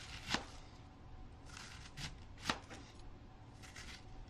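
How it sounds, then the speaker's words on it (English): A knife slices diagonally through Belgian endive on a cutting board, giving a few soft, crisp cuts spaced irregularly, quiet and close with no talking. "Now the best way to cut this endive is going to be diagonally."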